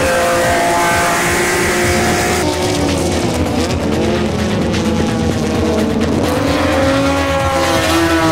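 A 1968 Ford Cortina Perana racing car driving hard, its engine roaring loud and close with rising and falling revs and tire squeal through the corners, continuing without pause and with no talking.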